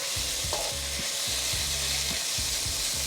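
Beef sizzles steadily as it fries in a pan for fried rice, a constant close crackle with a few soft scraping and stirring sounds over it.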